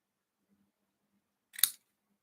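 One quick snip of scissors cutting the corner of a card, crisp and close, alone in a quiet room.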